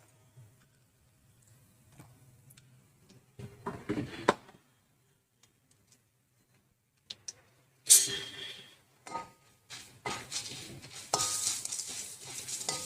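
Mustard seeds and chana dal frying in coconut oil for a South Indian garlic pepper rice, heard as quiet sizzling with intermittent spoon stirring and clinks against the pan, growing busier toward the end.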